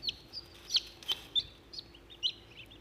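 Chickens, including a hatchery-raised chick, kept alongside Sudanese and local ducks give faint, sparse clucks and high peeps at a distance, scattered irregularly over a quiet background.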